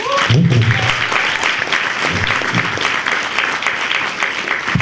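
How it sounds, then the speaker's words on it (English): Sustained, loud audience applause runs across the whole stretch, a dense unbroken wash of clapping with faint vocal sounds from the crowd near the start. "Please make some noise or clap for me."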